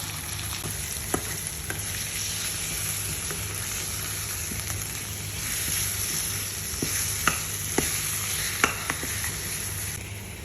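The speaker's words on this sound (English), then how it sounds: "we're going to fry the rest and make a fish fry" Sardines fry in a pan with a loud, continuous close sizzle and a few sharp pops and crackles spread throughout.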